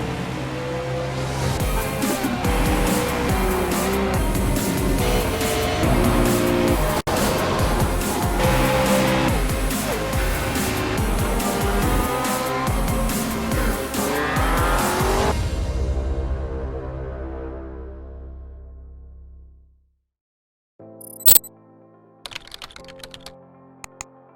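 Euro V8 Supercars racing at Snetterton in the iRacing sim racing game: a dense, continuous engine roar with tire noise that fades away after about fifteen seconds, followed by a few scattered clicks.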